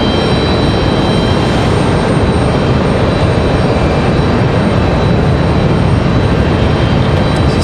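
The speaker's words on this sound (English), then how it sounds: "The 777-200 ER from Paris is going to be our next arrival." Air France Boeing 777-200ER from Paris arriving at Raleigh-Durham airport, a loud, dense jet engine roar close by, unbroken and steady from start to finish.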